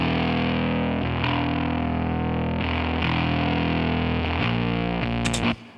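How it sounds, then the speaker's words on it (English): A fuzzy, heavily distorted bass guitar tone with a buzzy low end, played as sustained notes that change every second or so, then cut off. "That sounds fuzzy and it sounds farty in the low end"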